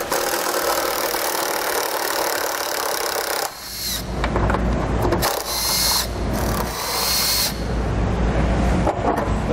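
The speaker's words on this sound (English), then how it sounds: "Then we'll take a 1/2-inch socket and we'll remove this bolt." A hand ratchet fitted with a 1/2-inch socket loosens a bolt on a 2014 Jeep Wrangler during a nerf bar installation. Bursts of clicking and rasping mechanical noise come up close over steady low background rumble, with no talk.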